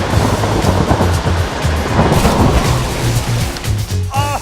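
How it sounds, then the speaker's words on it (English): Big ocean waves crash and roll under gusting storm wind in a rough-water sound effect, a loud, continuous wash of surf with surges throughout. "Oh no, Fred, the wind's picking up."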